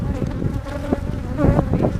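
A steady, dense buzzing of many honey bees fills the clip, close and continuous, with a low droning hum throughout.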